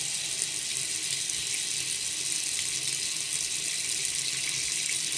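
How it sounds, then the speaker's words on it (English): Tap water runs steadily into a bathroom sink, a continuous bright hiss with a faint trickle beneath, constant and close throughout with no talking. "The water running in the background, ambiance."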